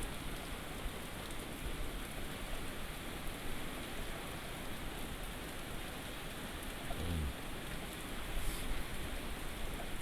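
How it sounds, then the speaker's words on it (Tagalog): Heavy rain pours steadily during Super Typhoon Tino in Bohol, a dense unbroken hiss of falling water and splashing across the whole stretch, with no voices. "So lakas. Umulan pa rin."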